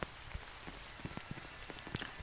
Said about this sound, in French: C'est normal qu'il pleut?